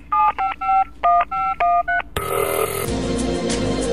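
A telephone number is keyed in as a rapid series of about eight distinct touch-tone beeps, then a connecting tone gives way to line hiss, loud and close with no talking.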